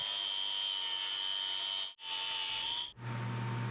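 An angle grinder fitted with a 4.5 inch flat disc cleans mill scale off steel weld joints, a loud continuous high whine that briefly dips twice as the disc touches and lifts, ending lower-pitched as the load changes.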